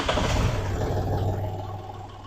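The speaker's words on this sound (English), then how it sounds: "So we're going to start the tractor again." A Kubota tractor with a front-mounted snow blower runs close by, a low, steady engine rumble that is loudest at first and gradually fades.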